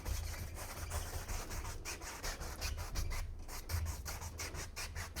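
An oil paintbrush crisscrosses over a canvas in quick, rhythmic rubbing strokes, a soft close scratchy brushing that repeats steadily without any voices.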